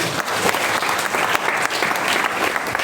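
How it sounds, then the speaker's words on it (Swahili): A church congregation applauds with steady, dense clapping that continues throughout at a loud, even level. "Makofi kwake."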